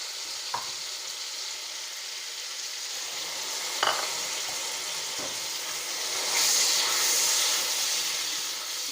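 Two medium tomatoes hit a pan of well-browned spices for dhaba-style chana dal fry, giving a steady frying hiss and sizzle with a few light knocks, swelling slightly louder toward the end, with no voices.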